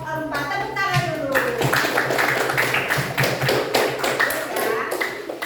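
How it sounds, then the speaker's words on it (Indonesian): A classroom group claps together in steady, dense applause that lasts several seconds after a student group finishes presenting, close and loud, with voices mixed in. "Tepuk tangan dulu."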